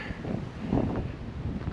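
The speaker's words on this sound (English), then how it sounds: "It's bloody windy up here, guys, so hopefully the noise isn't too bad." Steady wind buffets the microphone high up in the Victorian High Country, a low rumbling roar throughout with no voices.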